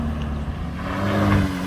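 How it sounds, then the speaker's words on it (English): Jeep Gladiator (JT) fitted with a Magnaflow exhaust idles slowly past, a steady deep low rumble that swells slightly as it nears and passes. "Here we're going to do a drive-by"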